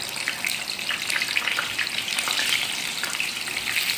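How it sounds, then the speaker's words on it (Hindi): Beef koftas, still icy from the freezer, sizzle and spit steadily in hot mustard oil in a pan, a dense continuous frying crackle close by with no voices. "इसके अंदर मैं अपने कोफ्ते डालूंगी और इनको फ्राई करूँगी।"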